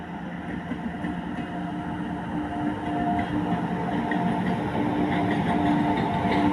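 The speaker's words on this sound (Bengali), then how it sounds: "এই তো কয়লা ভর্তি ওয়াগন।" Coal-loaded railway wagons rolling across the Rajbandh rail bridge, a steady loud rumble with faint rhythmic clatter and squeal, continuous and close, swelling slightly as they pass.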